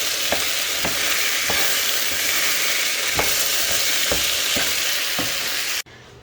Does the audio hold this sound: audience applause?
no